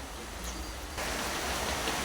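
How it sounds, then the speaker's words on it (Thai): Rain falling, a dense steady hiss that swells noticeably louder partway through, close and continuous with no talk. "ฝนก็มาแล้วครับ"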